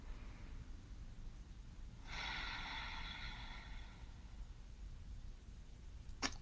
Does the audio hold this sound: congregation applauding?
no